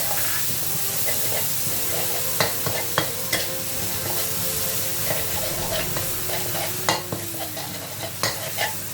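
Pork stir-fried with dry chillies and holy basil in a hot pan crackles and sizzles loudly while a spatula scrapes and clacks against the metal in irregular strokes.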